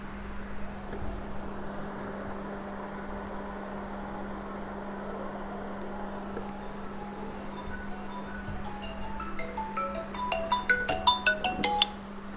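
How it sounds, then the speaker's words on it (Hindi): A mobile phone ringtone goes off in a classroom, a string of bright melodic beeping notes that grows louder and busier toward the end over a steady low electrical hum. "मेरा फ़ोन बज रहा है"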